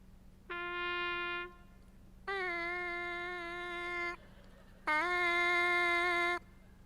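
A trumpet mouthpiece buzzed on its own gives three sustained, reedy brass-like notes, each held for about a second and a half with short gaps between them, heard clearly with no talking.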